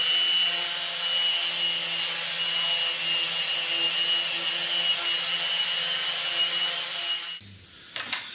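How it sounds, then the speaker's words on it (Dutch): Wood being sanded by hand with sandpaper in a workshop, a steady, loud, continuous rasping scrape that runs for several seconds before stopping, followed by a few light knocks. "Ik wil even een schuurpapiertje erover en dan is die kaal."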